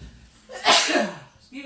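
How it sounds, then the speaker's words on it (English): A single sneeze into a shirt, brought on by pepper while cooking chili and mustard chicken: a short intake of breath, a muffled burst, then a brief trailing vocal sound, close and fairly loud. "Sorry guys, that's how I sneeze. I sneeze into my shirt."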